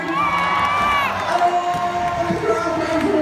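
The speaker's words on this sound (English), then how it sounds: "The crowd went wild." Cycle show crowd cheering at a stunt, loud massed shouts and whoops swelling and rolling on, with scattered voices rising above the roar.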